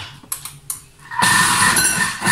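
A Thermomix chopping lettuce with water in the bowl for six seconds at speed 4, preceded by a few clicking button presses, then a sudden loud steady whirring rush of the blades.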